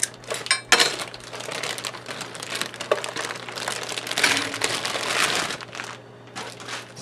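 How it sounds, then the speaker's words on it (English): Layers of packaging crinkle and crumple as a 120v to 220v converter is unwrapped, with close, busy rustling and crunching bursts throughout. "Quite a few layers to unwrap."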